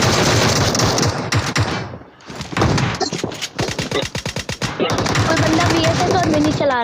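Loud rapid bursts of automatic gunfire in a squad shooter video game, dense rattling volleys broken by a brief lull and then resuming in sharp repeated shots, close and aggressive.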